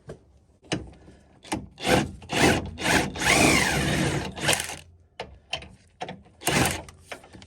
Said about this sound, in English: I need to undo this bolt now.